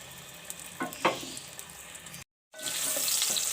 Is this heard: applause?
no